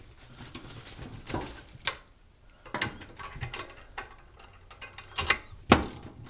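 A bushing tool is backed out of a vehicle's upper control arm bushing, giving close metallic clicks and ratcheting turns in irregular bursts, with a few sharper knocks and no talking.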